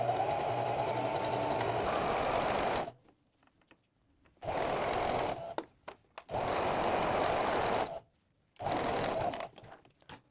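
A domestic sewing machine runs in three steady bursts, stitching a seam on a jumpsuit facing with the presser foot lowered, each run a few seconds long with brief quiet pauses between, loud and close.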